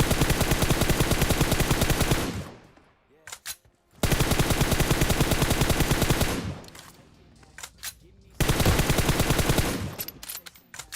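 Automatic gunfire in the video game PUBG Mobile rattles in three long, rapid bursts, each a couple of seconds long and followed by scattered shorter shots and brief lulls, loud and continuous.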